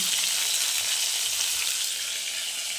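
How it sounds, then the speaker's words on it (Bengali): Loud, continuous sizzling of a fish head frying in hot oil, a dense crackling hiss with no voices. "মাছের মাথাটা আমি ভেজে নিচ্ছি।"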